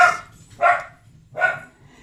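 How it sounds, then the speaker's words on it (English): Dogs bark three times, each a sharp, loud bark close by, separated by brief pauses. "Oh, they're barking, my dogs."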